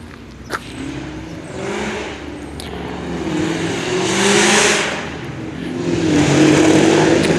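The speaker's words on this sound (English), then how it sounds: "Well, I'm a safe enough distance away from that Mustang. I won't have to worry about getting run over" A Ford Mustang rolls through a shopping-center parking lot, its engine a steady mid-pitched drone that swells as it draws nearer and then pulls on, with no one talking.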